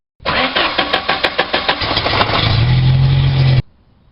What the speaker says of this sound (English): you can go ahead and start the car to ensure that there is no leaks